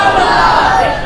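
A large crowd at an Eid Milad-un-Nabi religious gathering roars a slogan in unison, a dense, loud, continuous mass of voices.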